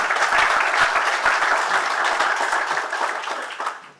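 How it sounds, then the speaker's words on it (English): A crowd of cattlemen at a range cattle research center field day gives a round of applause for the staff, dense steady clapping throughout that tapers off at the end. "I think we need to give them a big round of applause from all the cattlemen in the state."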